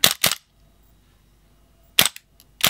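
A Western Arms Hoag K.K Special gas blowback pistol fires four loud, sharp cracks, two in quick succession and then two more after a silent pause.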